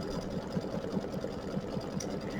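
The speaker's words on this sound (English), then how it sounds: "It's doing the underlay, and it's going to do the satin stitch border on here." A home embroidery machine runs the underlay and satin stitch border on a patriotic pennant design, making a fast, even, continuous mechanical whir with a rhythmic stitching pulse, close and alone.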